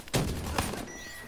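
Gunfire in Call of Duty Black Ops 3 multiplayer deathmatch: two quick loud shots close together, followed by a fading ring.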